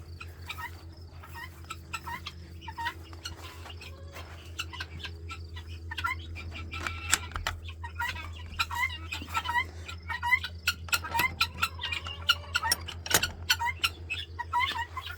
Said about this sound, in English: Time to let the guineas out.